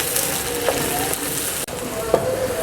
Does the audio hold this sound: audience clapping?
no